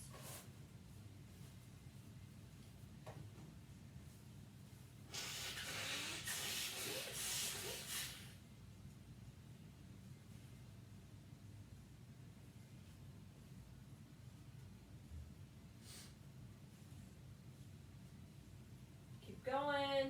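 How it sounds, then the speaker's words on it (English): During a home balance exercise session, a person blows their nose once in a single hissing burst lasting a few seconds, heard faintly against a quiet room background. "I need to blow my nose."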